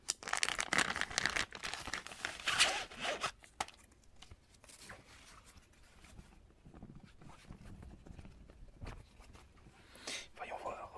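Collector's edition packaging for Divinity Original Sin being opened up close, with crinkling, rustling and zipper-like scraping in bursts, loudest early on, under soft whispered speech in French.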